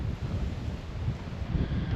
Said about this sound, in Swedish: Ja, vinden har verkligen tagit fart.